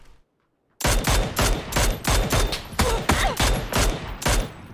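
Rapid bursts of gunfire from PUBG, loud and close after a brief silence, firing in a steady rhythmic volley of repeated shots for several seconds with no talk over it.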